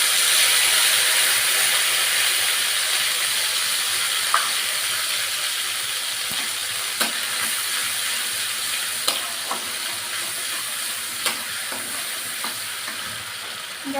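Ground spice paste hits hot oil already crackling with cumin seeds, giving a loud, steady, broad sizzle and hiss that carries on throughout, with a few faint clinks of a spoon; no one speaks.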